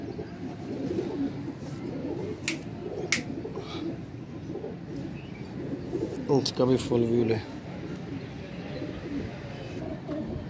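A loft holds pigeons, eight females and two males, cooing in a low continuous murmur. Someone talks over them, and a louder burst of cooing comes about two-thirds of the way through.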